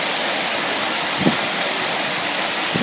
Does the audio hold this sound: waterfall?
yes